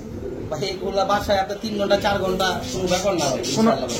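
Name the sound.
pigeons cooing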